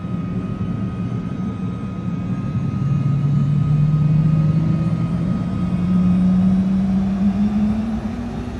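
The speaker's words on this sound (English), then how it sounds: "Engine sounds are pretty good." A Vision Jet engine runs in Microsoft Flight Simulator as a loud, steady low roar, with a whine that slowly rises in pitch as it spools up, continuous throughout.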